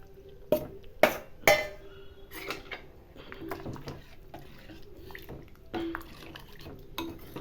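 Boiled dal is tipped into simmering sambar with drumsticks, bringing a few sharp metallic clinks of a ladle against the pot, then softer scraping, stirring and faint liquid sounds, quiet and close.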